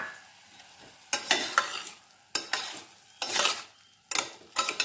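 Green peas and mixed vegetables are sautéed in a pan, with repeated scraping stirs in distinct bursts over a low background sizzle, close and fairly loud, and no voices.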